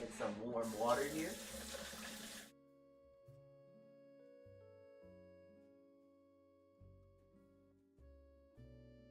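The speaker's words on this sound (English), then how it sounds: "I'm gonna get some warm water here." Warm water gushes from a kitchen tap for a couple of seconds, a close, hissing splash that then stops abruptly, leaving soft sustained tones in the background.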